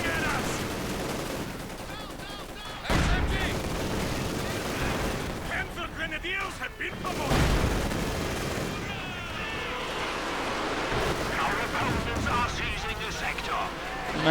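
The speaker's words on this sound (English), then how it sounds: "MG42 getting blasted to bits by the might of the Katyusha." Katyusha rocket artillery barrage in a World War II strategy video game, a dense sustained roar of rapid blasts and explosions destroying an MG42 position, with a commentator's voice running under the chaos.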